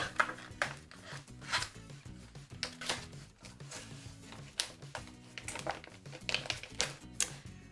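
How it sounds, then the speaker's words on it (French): A paper trimmer cuts paper for a scrapbooking page, with rapid irregular clicks and sliding clacks close by, fairly quiet and with no talking. "C'est trop bien quand on a un massicot qui coupe."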